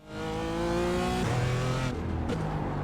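A BMW M4 GT4 race car in iRacing, at Okayama, its engine droning loud and steady near the limit, then dropping pitch through quick upshifts and rising again under acceleration.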